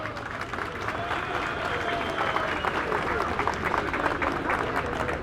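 A Paris gathering applauds a speaker in support of recognition of a Kabyle state, a sustained, fairly loud wash of clapping with some crowd murmur beneath it.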